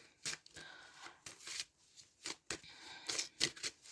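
Tarot cards are shuffled repeatedly up close, giving crisp riffling bursts with short pauses between them.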